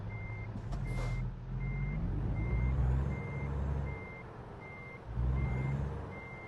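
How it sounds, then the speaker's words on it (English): A truck engine in the video game American Truck Simulator rumbles steadily while a high reversing beep repeats at an even pace, loud and close, with no voices. "Start our truck up."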